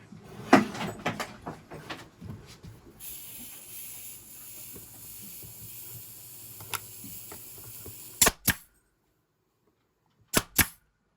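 A brad nailer drives nails into wood for Halloween decorations, giving a few sharp, close snaps separated by pauses, with a faint hiss and handling noise between them.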